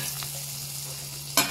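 Ingredients roast in butter in a pan, producing a soft, steady sizzle over a low hum, ending with a sudden louder scrape or clatter near the close.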